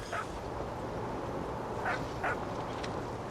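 Dog barking in the video game What Remains of Edith Finch: a few short, fairly faint barks spaced over about three seconds above a steady background hiss.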